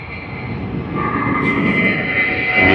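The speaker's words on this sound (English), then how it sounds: "We are just capturing a departure at the stage. Jetstar." Jetstar airliner departing Sydney Airport, a steady engine roar that builds gradually in loudness, heard alone at some distance.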